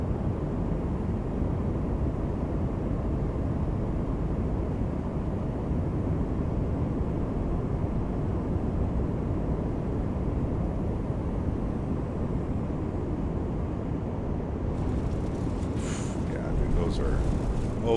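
Continuous low engine rumble and roar of an Airbus A220 landing in a flight simulator, steady throughout, with a brief higher-pitched mechanical rattle near the end.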